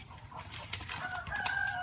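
A wild hen near her nest of a dozen eggs gives a short run of soft, quiet clucks, close but faint against a light background.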